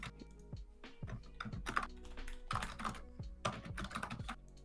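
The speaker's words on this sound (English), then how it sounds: "My awful typing." Fast, uneven keystrokes on a computer keyboard, close and crisp, clicking in irregular bursts with brief pauses and no talk over them.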